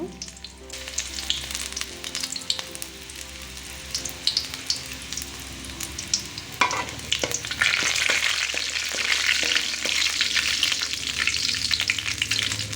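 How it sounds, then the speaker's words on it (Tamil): Mustard seeds, urad dal and then garlic fry in hot oil for coriander rice. A steady crackle swells into a loud, dense sizzle partway through, with spatula scrapes and the odd pop over it. "இது நல்லா பொரிஞ்சு வந்ததையும் கொஞ்சமாக பூண்டு சேர்த்துக்கோங்க."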